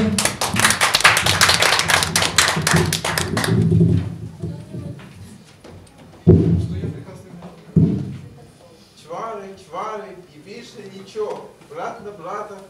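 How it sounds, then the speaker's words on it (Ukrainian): Applause from a theater audience at a comedic literary performance, dense clapping for several seconds that thins out, followed by scattered thumps and then a person speaking alone. "Я думаю, мы поддержим его аплодисментами."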